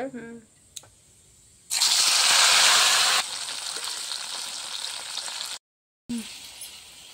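Mustard seeds fry in hot oil for a pickle, a loud, bright sizzle that flares up abruptly, settles into a steady crackle, then cuts out briefly before resuming, with a voice speaking briefly at the start.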